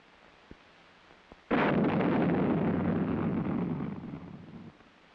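An Honest John artillery rocket launching: a sudden loud blast that settles into a sustained roaring rush of burning propellant lasting a few seconds before tapering off, preceded by faint clicks.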